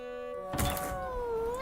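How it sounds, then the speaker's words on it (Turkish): A cartoon cat gives a single drawn-out meow with a bending pitch that rises and then falls, heard over a background music bed after a brief thump. "Aptal kedi."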